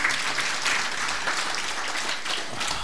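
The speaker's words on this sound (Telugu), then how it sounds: "చప్పట్లు కొడదాం గట్టిగా" A church congregation claps together, a steady, fairly loud burst of many hands applauding that lasts throughout with no break.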